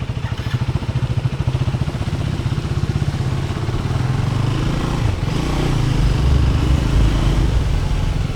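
A Triumph Speed 400 motorcycle, just collected after a service, idles nearby with a steady, loud low rumble and rapid even pulses, rising slightly in intensity midway, with no talking.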